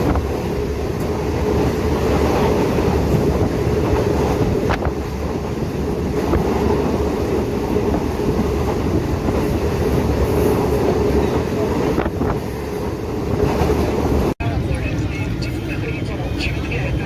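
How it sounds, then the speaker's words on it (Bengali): Riding aboard a train that is moving, with a continuous loud rumble and rattle of the carriage, rhythmic wheel clatter, and voices talking over the noise. "আমরা এখন ট্রেনে উঠে গেছি"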